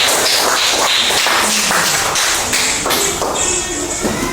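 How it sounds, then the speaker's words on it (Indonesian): Students in an Indonesian classroom give a burst of clapping, dense overlapping claps continuing for a few seconds at steady loudness, close and fairly loud with no talk over it. "tepuk tangan buat siapanya"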